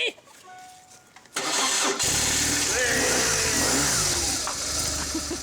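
A motorcycle engine cranks over and catches, then settles into a loud, steady idle as it warms up on a snowy, icy day, with brief voices audible before it starts.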